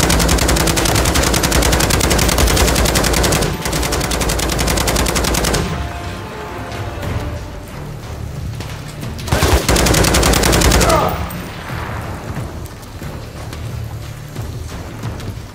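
A hacked sentry gun in Call of Duty: Modern Warfare 3 hammers out long, dense, loud machine-gun bursts on Verdansk's Gora Dam. One sustained stream of fire comes first, then a shorter burst after a pause.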